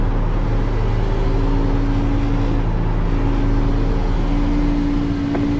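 Race car engine in the iRacing sim game, a steady sustained drone with constant low hum and tones, loud and continuous with no talk.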